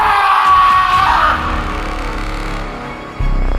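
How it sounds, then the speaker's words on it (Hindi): A man gives a loud, drawn-out scream in a Hindi horror story narration about a last metro ride. The scream fills the first second or so, then fades into a low droning background, and a deep thump lands near the end. "वरुण जोर से चिल्लाया।"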